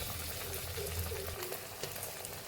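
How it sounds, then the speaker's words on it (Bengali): Pieces of chicken 65 frying in hot oil in a kadai, a steady close sizzle with faint bubbling crackle running evenly throughout, no voices. "এবার আমি একটা একটা করে ভেজে নেব"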